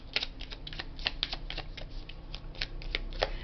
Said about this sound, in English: it's my shuffling skills are so bad today